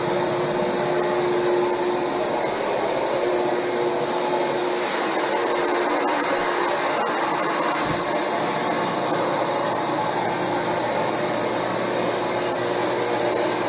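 A Rug Doctor carpet cleaning machine runs in a room with a steady, loud vacuum roar and a high whine that hardly changes for the whole stretch, with no talking over it.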